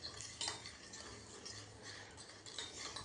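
A spoon stirs homemade cream for cracked heels in a small container, making soft repeated scrapes and light clinks at close range in a quiet room.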